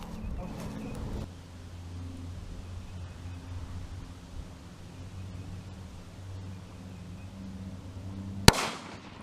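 A single sharp, loud gunshot from handguns or an AR-15 rifle cracks near the end, after a long stretch of low, steady rumbling background noise.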